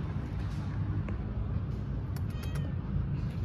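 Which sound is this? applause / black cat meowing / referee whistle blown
black cat meowing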